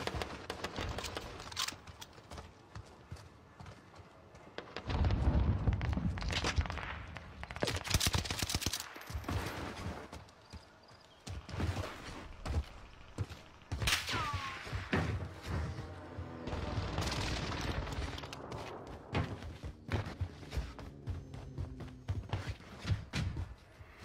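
Rapid gunfire in a shooter video game, dense bursts of close shots and volleys with thuds, repeated throughout at varying intensity, loud and sustained.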